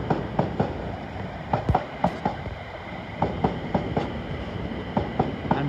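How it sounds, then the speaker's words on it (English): A London Northwestern Railway Class 350 electric train runs past near London Euston with loud, rhythmic clickety-clack of wheels over rail joints and a steady rumble throughout, heard from close by with no talking. "Here comes another London Northwestern Railway 350 coming into London Euston."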